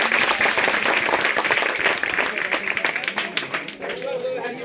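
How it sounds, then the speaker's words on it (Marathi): Audience applause welcoming a former school headmaster as a guest at a school book-distribution event, dense steady clapping from a crowd that thins slightly toward the end. "टाळ्या वाजवा रे मित्रांनो."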